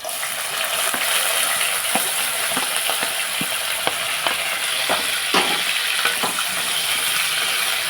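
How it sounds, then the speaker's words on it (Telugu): Dried shrimp fry in hot oil, giving a steady bright sizzle throughout with scattered pops and crackles and occasional scraping stirs, close and fairly loud. "ఇప్పుడు మనం ఆయిల్ హీట్ ఎక్కిందని ఇందులో మనం ఎండ్రేలు వేపుకుందాం"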